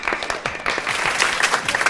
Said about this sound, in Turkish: Alkışlayalım arkadaşımızı.